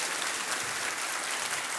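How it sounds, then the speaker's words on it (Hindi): A studio audience on the quiz show Kaun Banega Crorepati applauds a contestant, a brief, dense burst of clapping that holds steady and loud from start to finish. "तालियां बज जाएं इनके लिए।"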